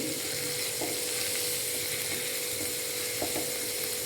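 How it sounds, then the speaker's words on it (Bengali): Food sizzling steadily in a pan over a medium flame for a home dinner, a continuous close frying hiss with a few faint clinks of utensils and no talking. "খুব হাই ফ্লেমও না, আবার লো ফ্লেমও না, মিডিয়াম ফ্লেমে এটা আমি আর কি জাস্ট কুক করছি।"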